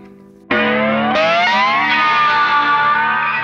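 Electric guitar on the bridge pickup, a note sliding up the neck into a high sustained, distorted tone thickened by delay and chorus, with a second attack partway through, loud and alone.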